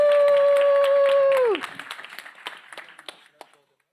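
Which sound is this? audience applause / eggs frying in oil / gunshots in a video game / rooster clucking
audience applause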